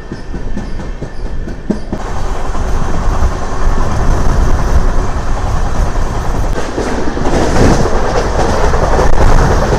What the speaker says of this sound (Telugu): తిరుపతి నుంచి కోయంబత్తూరు వెళ్ళే intercity super fast express train అయితే మనం అయితే ట్రావెల్ అయితే చేస్తున్నాము